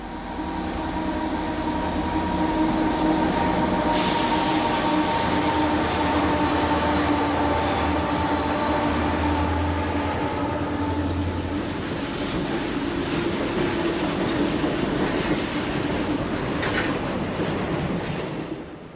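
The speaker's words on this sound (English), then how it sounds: "Ed documented piggyback train 219 from the overpass with 6 locomotives leading the train south." A long Norfolk Southern piggyback freight train led by six locomotives rumbles steadily past an overpass with heavy diesel engine drone and continuous rolling wheel noise, loud and close throughout.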